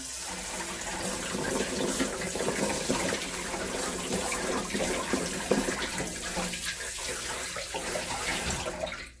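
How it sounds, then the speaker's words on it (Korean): Peeled, trimmed ginger held in a strainer basket is rinsed under a running kitchen tap, a steady close splashing and hiss of water that lasts throughout. "마지막으로 한번 헹궈주세요."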